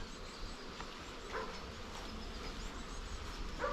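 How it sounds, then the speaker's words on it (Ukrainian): A large honeybee swarm being moved into a hive gives off a steady, faint insect hum that holds evenly throughout, with a couple of slightly brighter swells partway through. "Це рій."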